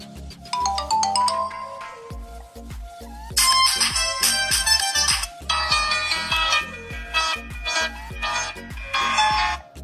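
A budget smartphone plays its default ringtone through its rear speaker, a bright, rhythmic electronic melody of repeating tones and beats, loud and close with nothing else over it.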